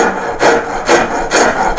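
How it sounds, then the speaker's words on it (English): Rasps work a carved wooden sculpture in a Hepworth style. Three rough, scraping strokes come in a steady rhythm, close and loud, with brief pauses between each rasping pass. "and then using my rasps"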